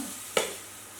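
Onion and Thai roasted chili paste stir-fried in a pan for Korean-style noodles make a soft, steady sizzle with a single brief scrape of the spatula, faint and close.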